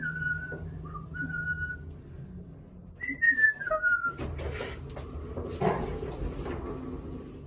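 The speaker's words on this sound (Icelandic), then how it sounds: "brýti ísinn með því að flauta." A person whistling a few short, clear, tuneful phrases alone, followed by soft knocks and rustling handling sounds.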